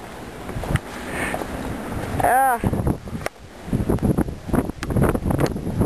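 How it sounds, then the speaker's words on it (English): Strong wind gusts during a snow storm in Calgary buffet the microphone in loud, rumbling bursts, with a short exclamation and people talking between the blasts. "so windy."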